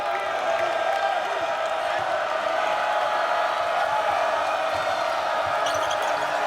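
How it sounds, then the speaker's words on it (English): Penn State Nittany Lions home crowd roars steadily through a Big Ten basketball game against Wisconsin, a dense continuous wash of cheering with ball bounces mixed in, loud and sustained throughout. "Crowd trying to get the Nittany Lions going on this end."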